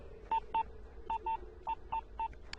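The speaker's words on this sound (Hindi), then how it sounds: "ये तो विशाल का फोन है।" A sequence of short, evenly spaced telephone keypad tones, about ten beeps in a quick irregular rhythm, clear against a quiet background.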